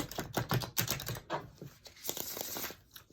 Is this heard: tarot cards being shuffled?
yes